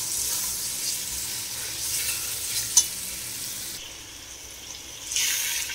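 Tomatoes being mixed into pav bhaji frying in a pan, with a steady hissing sizzle that drops away partway through, a single sharp clink of a utensil, and the sizzle swelling again at the end.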